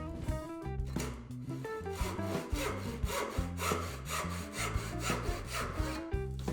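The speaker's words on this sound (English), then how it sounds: "You definitely want to let the saw do all the work." A hand saw cuts dovetails in wood with a close, steady back-and-forth rhythm, each stroke giving a distinct rasping pulse, with no voices.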